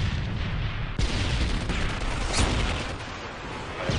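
Stun grenades going off in Call of Duty: Modern Warfare 3, a dense, loud wash of blasts and gunfire with sharp cracks near the start and middle, continuous and chaotic.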